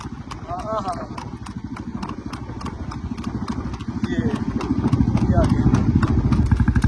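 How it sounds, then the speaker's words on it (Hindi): Rhythmic hoofbeats of a ridden horse run steadily on a rough, half-paved path, loud and close, the clip-clop growing denser and heavier toward the end, with voices and engine-like rumble underneath. "ये देखो, पैरों की आवाज बदल जाती है, चल के तो बदल जाती है।"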